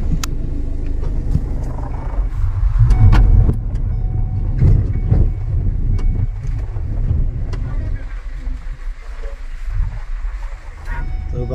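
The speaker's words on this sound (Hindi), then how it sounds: "गाड़ी थोड़ा बैक करते हैं।" A car backs up slowly, its low, steady engine rumble mixed with wind buffeting the microphone, while people talk over it.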